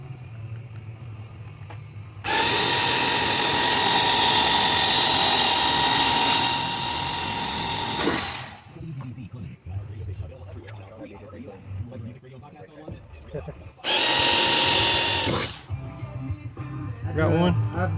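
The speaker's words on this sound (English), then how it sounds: "I've drilled out the wrong damn one." Power drill drilling out a part while prepping a 25x SCDRA Extreme front-wheel-drive UCAR race car, two loud sustained whining bursts of about six seconds and two seconds, with shop noise and a few spoken words in the gaps.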